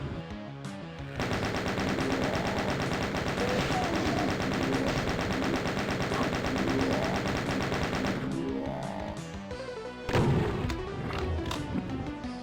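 Sustained rapid chaingun fire from a chaingunner enemy in the Doom mod Back to Saturn X, a dense continuous rattle lasting several seconds, then stopping, followed by scattered sharp shots and impacts.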